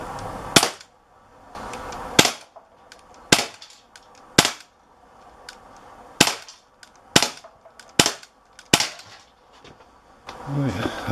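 An Umarex Walther PPQ .177 CO2 pellet pistol fires about ten sharp, close shots at irregular intervals with quiet handling noise between them. Faint voice sounds come at the very end.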